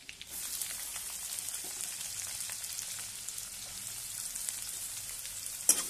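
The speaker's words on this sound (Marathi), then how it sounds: "बघा मी कांदा आणि टोमॅटो हा कांदा टाकत आहे।" Onion dropped into hot oil in a pan for vatana batata rassa sizzles steadily with a fine crackling hiss, close and moderately loud, with a sharp clink near the end.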